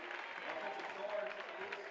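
A crowd cheers and applauds at a high school varsity basketball game, a dense, sustained roar filling the gym for a couple of seconds.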